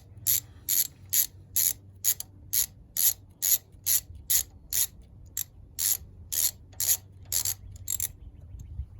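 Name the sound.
ratchet loosening spark plugs on 2020 Jeep Compass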